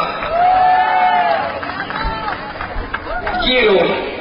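A crowd at an outdoor marinera dance contest honoring the Señor de la Caña in Chiclín cheers and makes noise, with a loud amplified announcer voice over the mixed clapping and shouting.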